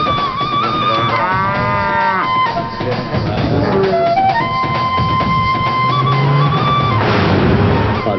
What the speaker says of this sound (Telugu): మా ఊరి దూడల్ని ఈ పొలిమేర దాటించండి